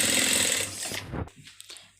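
Sewing machine stitching an Afghani salwar, a close, dense mechanical whir that runs for about a second, then stops, leaving a few faint clicks and handling sounds.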